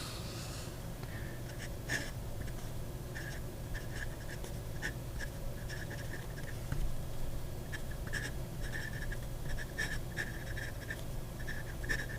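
A fountain pen nib scratches across paper in quiet, irregular strokes, with brief sharp scritches and pauses, close and faint, alone without talk.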